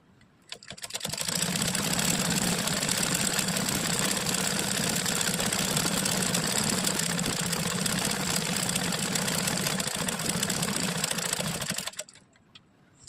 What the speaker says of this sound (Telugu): కుడుతున్నాను ఇటు.